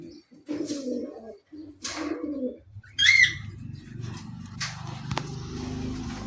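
Giribaz pigeons, including a red-eyed female, coo softly in a cage, with several low, throaty coos and a few chirps close by, under occasional speech.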